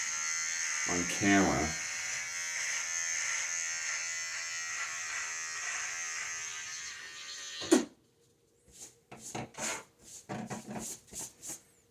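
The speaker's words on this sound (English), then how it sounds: "It's very interesting to do this shaving" Electric razor buzzing steadily close up while shaving off a man's full beard, a continuous whir for several seconds that stops abruptly, followed by someone talking.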